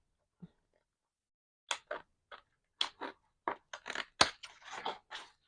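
Scissors cutting paper in a series of short, crisp snips and crinkly cuts, irregular at first then quickening into a close, busy run of cutting sounds.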